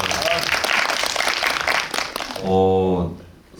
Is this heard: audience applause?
yes